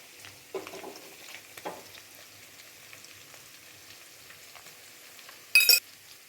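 Mutton keema frying in a pan, faint sizzling with a few soft scraping stirs and a sharp clatter near the end, quiet overall with no talk.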